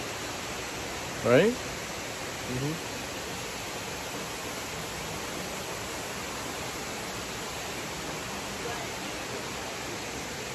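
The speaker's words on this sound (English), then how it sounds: "That's such a cool waterfall" Waterfall in a tropical botanical garden on Hawaii's Big Island, a steady broadband rush of falling water filling the whole clip at even volume, with a brief voice speaking early on.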